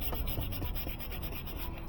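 Sandpaper rasps in quick, repeated back-and-forth strokes against the hard plastic headlight lens of a 2013 Nissan Juke, close and steady.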